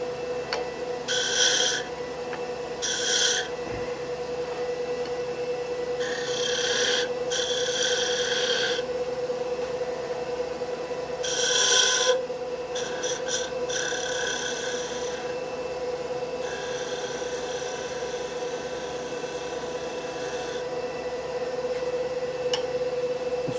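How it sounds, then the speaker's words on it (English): A skew chisel turning beads on a spinning wood lathe gives a steady hum, overlaid with intermittent light scraping and cutting bursts that come and go in short patches and longer passes, with no talk. "this is a great exercise in turning a bead with a skew"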